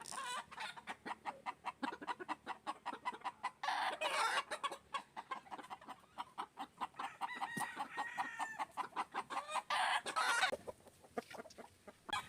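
Chickens cluck and a rooster crows repeatedly at close range, a busy, continuous stretch of poultry calls with rhythmic clucking throughout.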